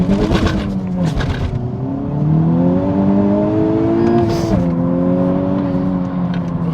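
A front-wheel-drive hot hatch launches on a damp road, its engine revving up through rising pitch sweeps with a brief drop at a gear change, loud and close from inside the car, with no talk.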